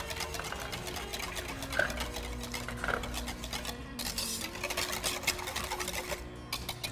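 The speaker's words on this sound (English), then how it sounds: "Get that milk and eggs mixed up a bit" Milk and eggs whisked together in a bowl for waffle batter, giving a steady, close, rhythmic clinking and scraping that runs throughout with no voices.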